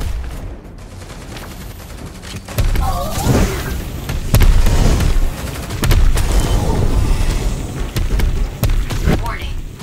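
Heavy gunfire aimed at a toxomorph creature in the survival shooter Earth Revival: dense bursts and booming shots in rapid succession, loud and close, with shouted voices mixed in among the blasts.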